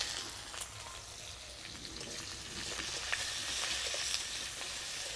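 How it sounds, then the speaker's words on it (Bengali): Chopped onion sizzling in hot mustard oil with dried chilli, panch phoron and bay leaves, a steady, dense frying hiss throughout with faint clinks of stirring. "তার মধ্যে কিছুটা সরষের তেল দিয়ে দিব শুকনো লঙ্কা পাঁচ ফোড়ন দিয়ে দেবো আর দুটো তেজপাতা এবারে দিয়ে দেবো পেঁয়াজ কুচি"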